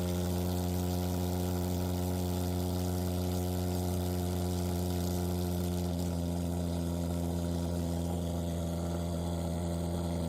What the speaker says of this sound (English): Let's adjust the amount of fog sprayed.